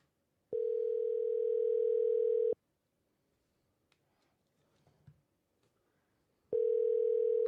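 Ringback tone of an outgoing phone call played on speakerphone, a loud steady tone lasting about two seconds, then a long quiet gap with faint room noise before the next ring begins.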